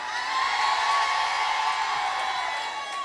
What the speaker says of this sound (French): Est-ce que je peux entendre des cris des femmes soumises ici?